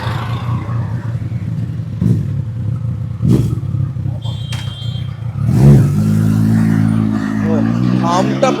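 A Kawasaki Ninja 1000 fitted with a new Two Brothers exhaust idles with a deep, humming rumble and then revs up sharply. The engine is close and loud, and people talk over it.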